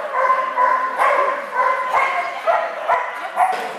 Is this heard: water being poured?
no